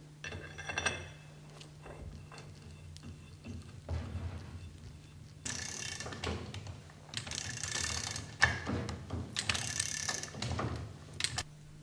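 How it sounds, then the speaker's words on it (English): A puller screw is turned to press a bearing into the bearing holder of a Flygt sewage pump, producing close ratcheting clicks, metallic grinding and clinks in bursts over a steady low hum, growing louder and busier in the second half. "Oil the puller screw and use it to press the bearing into place."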